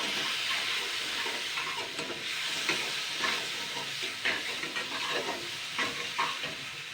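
A fig and potato curry with tomato ketchup is stirred and fried in a pan: a steady, close sizzle runs throughout, broken by repeated scraping strokes of the spoon, with no voices.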